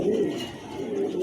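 A short-tailed pigeon coos steadily and close by, a low soft rolling call that runs throughout with no talk.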